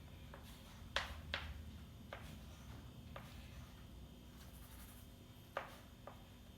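Math questions with decimal numbers being handwritten, heard as soft, close scratching and a few sharper taps of a pen or marker on a surface, faint and irregular over a low background hum.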